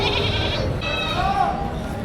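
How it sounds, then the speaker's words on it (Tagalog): A goat bleats in a drawn-out, wavering cry, close and loud, layered over steady background noise and voices at a livestock market. "Laking kambing din ito."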